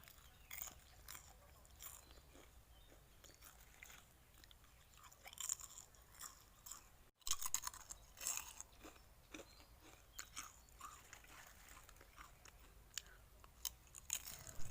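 Crisp fried thin potato slices are bitten and chewed close up, giving a series of irregular crunches over a quiet background, with no voices.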